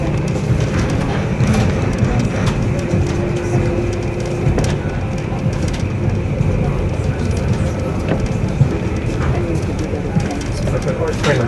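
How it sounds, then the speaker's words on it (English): A train between Melbourne and Adelaide rumbles steadily along the rails, a continuous low roar with faint clatter, while voices talk in the background and birds chirp occasionally. "Sydney train."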